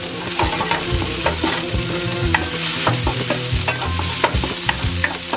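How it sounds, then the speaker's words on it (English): A chopped ingredient fries with onions in a pan, a loud close sizzle broken by regular scraping strokes of stirring, with no voices. "Again, throw that in with the onions."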